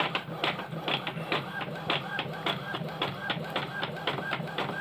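A small printer runs through wedding invitations, its mechanism ticking and clacking in a steady repeating rhythm with whirring feed noise underneath, close and fairly loud, apparently with no voices over it.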